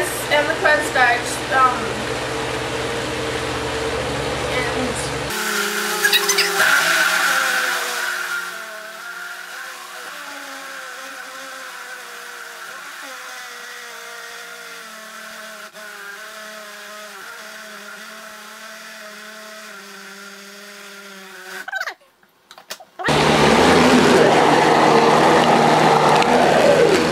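A blender whirs as it mixes papyrus pulp with lint and cornstarch, loud and steady at the start and end with a quieter, lower stretch in between.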